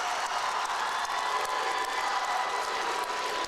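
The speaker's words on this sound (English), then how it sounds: "They're getting this crowd fired up." A high school crowd in a basketball gym during a Division 5 regional tournament game roars in a steady, dense wash of cheering that holds at an even level throughout, heard from a distance.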